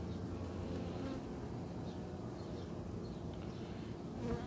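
Honey bees from a newly caught swarm hum densely on a frame of fresh comb, a steady close buzz that stays constant throughout with no speech.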